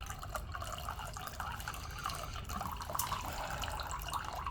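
Tap water runs steadily from a water filter into a container, a continuous splashing trickle heard close and alone without talk.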